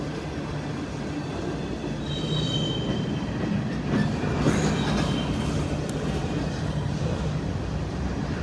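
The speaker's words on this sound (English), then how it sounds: "it looks like we got another train coming up on the siding, the tracks right there" A train rolls along a siding track beside the main line in rural Indiana or western Kentucky, a steady low rumble of railcars with faint high wheel squeal rising midway, continuous and moderately distant.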